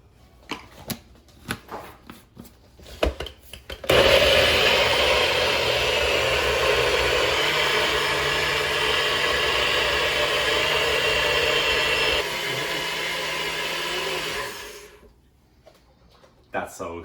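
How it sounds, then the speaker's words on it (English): A Magic Bullet blender purees lobster bisque ingredients, starting with a loud burst and then holding a steady, close whirring grind for about ten seconds before it stops, with people talking before and after. "Throw all that right in your magic bullet."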